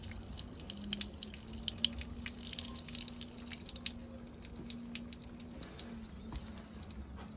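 Engine coolant water drips from an overheating tractor with a bad radiator, faint irregular ticks and splashes over a low steady hum.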